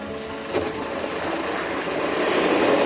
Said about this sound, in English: So I just turn the old motor on